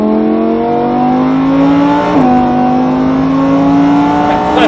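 Lamborghini Huracán accelerating hard on a track during a driving course at Mérignac: a loud, close engine note climbing steadily in pitch, a quick shift dip midway, then rising again.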